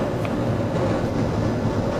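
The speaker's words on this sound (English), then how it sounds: "train ride is about to come to an end." A tram-style train ride pulls into a station in the video game Half-Life: Blue Shift, a steady loud rumble of rolling rail car wheels with faint clatter, continuous and close, no voices.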